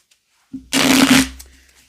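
A Teddy Tarot card deck being shuffled close up, one short burst of riffling cards lasting about half a second, loud against an otherwise quiet room.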